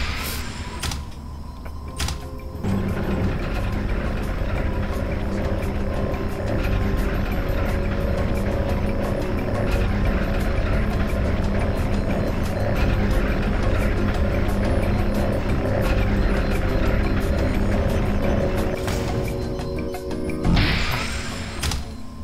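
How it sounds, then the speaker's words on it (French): A steady mechanical hum and low drone of an elevator moving in the video game Wilson Chronicles Black Mesa, running continuously for about twenty seconds, with clunks at the start and end as it begins and stops. "J'imagine que je dois prendre l'ascenseur."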